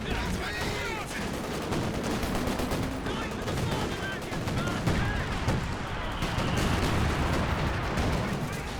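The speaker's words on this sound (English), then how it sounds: "Oh, nice anti-tank strafe." Anti-tank strafe in the Company of Heroes 2 war game on the La Gleize map: dense, continuous rattling gunfire and booming impacts fill the battle soundscape at steady loudness.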